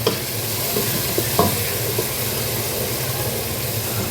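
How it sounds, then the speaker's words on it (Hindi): Onions for aloo chicken sizzle steadily toward golden brown in a hot pan, a close, even frying hiss with a few faint stirring clinks. "यहाँ भी हमारे प्याज हो रहे हैं, जैसे थोड़े गोल्डन ब्राउन होंगे"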